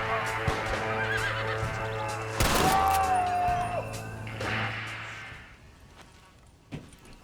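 A horse whinnies in Red Dead Redemption: Undead Nightmare, a rising and falling neigh mid-clip over steady game ambience, with a crash and hoof clatter around it before things quiet down.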